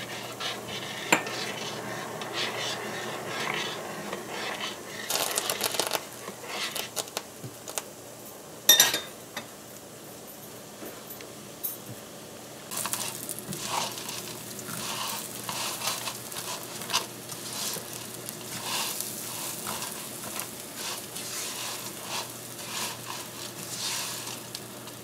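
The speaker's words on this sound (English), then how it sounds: "So we're going to parch our vermicelli until it gets a bit, a little color, a little dark color." Vermicelli parching in a pan, stirred with a utensil, with soft dry sizzling and scraping, occasional clinks against the pan, close and steady.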